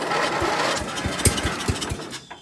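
An old lawn mower engine cranks on choke, a rapid series of low sputtering pulses and coughs that never catch and run, close by with no talking.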